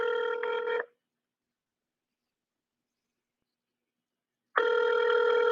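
Phone ringing out during a cold call, heard as two bursts of a loud, near ringback tone separated by several seconds of total silence, with no voices.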